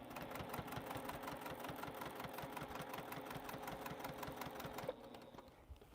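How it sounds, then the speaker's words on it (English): Sewing machine stitching a back stitch on a quilt, a fast, steady mechanical whirr and rapid rhythmic clatter of the needle running close and moderately loud for about five seconds, then stopping abruptly into quiet hum. "I'm just going to go ahead and put another back stitch there"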